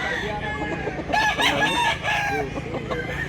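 A bullstag rooster in Mantalongon, Barili, Cebu crows once, close and loud, with a rising and falling call of about a second, while other chickens cluck softly around it.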